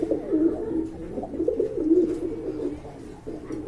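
A pair of high-flying Giribaz pigeons coos close by in a steady run of soft, throaty calls that rise and fall, with no one talking over them.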